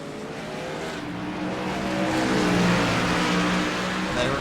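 Race cars accelerating through a chicane on the Portland circuit, engines droning and rising in pitch as they pass, loud and sustained with a swelling roar midway.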